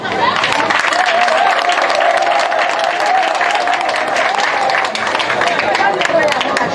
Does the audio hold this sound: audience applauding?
yes